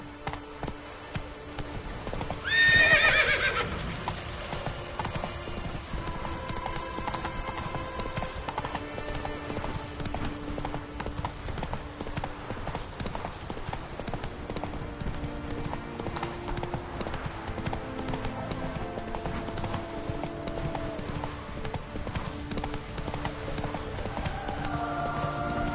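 Hoofbeats of the video game horse Roach clip-clop steadily at a gallop, with a loud whinny near the start and game music running underneath.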